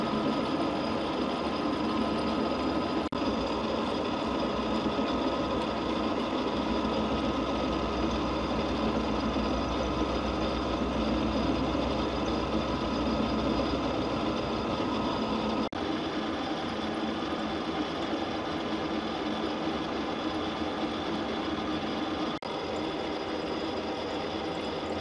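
A machine cuts a keyway into a gearbox shaft, bringing it to depth over several passes; a steady, close whirring drone runs continuously with a faint rhythmic chatter underneath and no voices.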